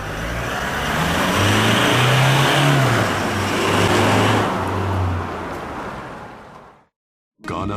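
A Toyota Hilux GUN125 with a Ganador GDE-series aftermarket muffler runs at medium speed, its deep exhaust rising and falling with revs, loud and close, before cutting abruptly to silence near the end.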